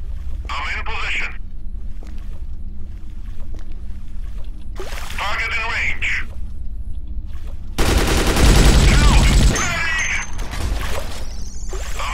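Enemy gunfire bursts out in the sci-fi zombie shooter Dead Effect 2, with a long, loud volley in the middle and shorter shots around it, heard beneath ongoing game sounds and a player talking.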